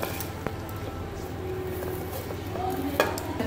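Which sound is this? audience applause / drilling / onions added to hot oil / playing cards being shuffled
onions added to hot oil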